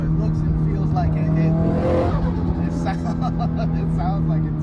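A Nissan Silvia Spec R S15 drift car's engine revs loudly and close, rising to a peak and falling away, with people talking over it.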